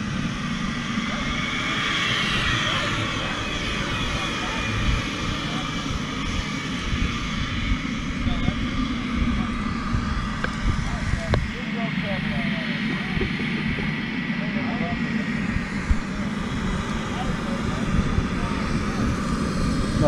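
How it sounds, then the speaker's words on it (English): A remote-control fighter jet with a real jet-fuel turbine engine warms up at an RC flying event, giving a continuous loud roaring whine with voices in the background. "real jet engine plane fixing to fly up here. Still remote control, but it's got the actual jet fuel jet engine on it."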